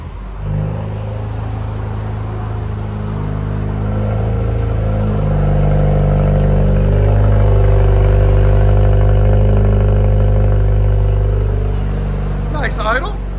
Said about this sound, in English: Nice idle. Not crazy loud. Clean. That's the cold start, you know. So that's idle.